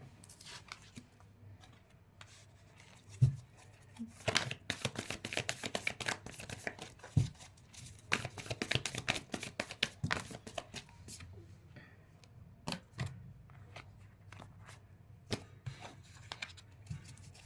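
Tarot cards being shuffled and dropping down, bursts of quick papery riffling and flicking with sharp taps as cards fall, close and quiet, separated by brief pauses.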